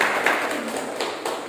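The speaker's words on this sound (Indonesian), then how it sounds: "Berarti tepuk tangan untuk kelompok 2." A classroom group applauds another group during a teaching practice session, giving a short burst of dense, steady clapping.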